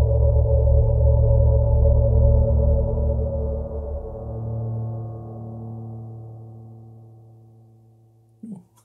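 A dusty, lo-fi, spacey Absynth Jura synth sound fades through its long release tail, a sustained chord slowly dimming and darkening, followed by a brief faint click-like blip.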